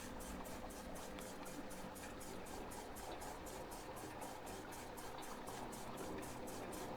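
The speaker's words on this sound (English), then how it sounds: "So if I start draining the reservoir" Water draining from a reservoir in the video game Blue Prince, a steady rushing, bubbling wash with a faint rhythmic pulsing, continuous and fairly close throughout.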